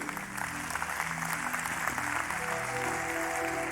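A church congregation breaks into sustained, even applause: many hands clapping together in a dense, continuous wash from start to finish.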